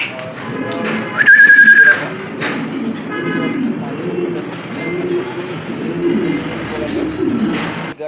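A pair of Lakka fancy pigeons coo softly in a loft, their low calls running under steady talk, with a brief high whistle-like tone near the start.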